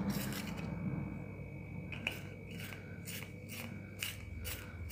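A pencil being turned in a small handheld pencil sharpener, a faint, close scraping with a soft, repeated rhythmic rasp, with no talking.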